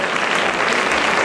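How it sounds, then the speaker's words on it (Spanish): Dense, steady applause from an audience greets a music band, a cornet and drum group, taking the stage at a Santa Cecilia contest, a continuous wash of many hands throughout. "Un aplauso."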